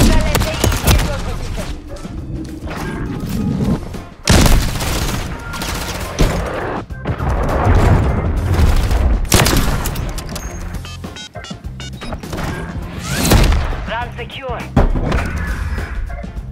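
Sniper rifle shots in a video game ring out as sharp loud cracks amid ongoing gunfire and booms, with players talking excitedly throughout.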